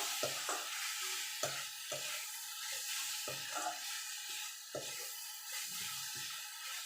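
A spoon stirs cooked coconut filling in a pan, scraping in irregular strokes over a soft, continuous sizzle, close and moderately quiet with no voices.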